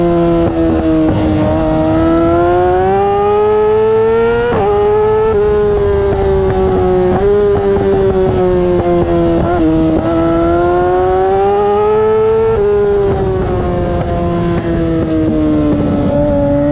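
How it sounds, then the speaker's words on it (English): A Yamaha R6 and Kawasaki ZX6R sportbike roar around the Podium Club racetrack, the loud, close engine note climbing through upshifts to fifth and dropping back on downshifts to second, with sharp breaks at each gear change and no talk. "you'll see me upshift to fifth and then back down to second, when normally it's from third to fourth to fifth and back down to second"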